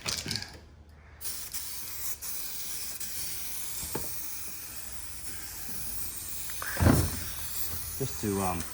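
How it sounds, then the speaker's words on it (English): Continuous hiss of a 2K aerosol spray can painting a Honda Civic EP3 car roof, long bursts close by, with a couple of brief clunks and some soft talking in the background. "Might go do a diagonal spray pattern if I can."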